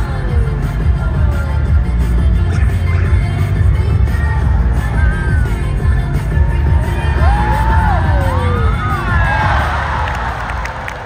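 A crowd cheers and whoops at a course event as a racer finishes, with children shouting among the loud, continuous roar that swells with scattered yells and bangs throughout.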